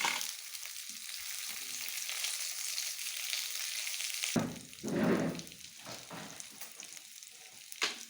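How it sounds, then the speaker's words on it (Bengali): Potatoes frying in oil in a pan for a vegan jackfruit curry, a steady close sizzle for the first half, then louder bursts of spattering and stirring noise with no talking. "ওই তেলে আলু কটা একটু ভেজে নেব।"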